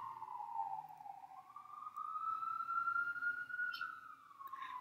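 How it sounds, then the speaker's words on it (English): An emergency vehicle siren passing outside, a faint wailing tone that rises and falls slowly, heard from a distance over quiet background hiss. "I should wait for the siren."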